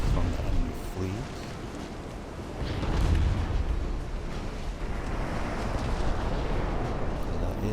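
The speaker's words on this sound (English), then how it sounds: "That is a lot of gunfire." Naval artillery from warships in the naval strategy game Ultimate Admiral: Dreadnoughts fires in a dense, continuous rumble of overlapping booms and crackle, loud and sustained throughout.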